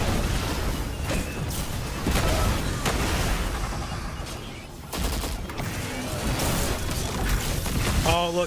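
Explosions and combat blasts in the video game Destiny 2, a dense, continuous barrage of booms and gunfire-like bursts rumbling throughout at steady loudness, with a voice speaking over parts of it.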